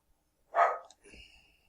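A dog gives a single short, close bark, followed by a softer, whiny trailing sound in an otherwise quiet room.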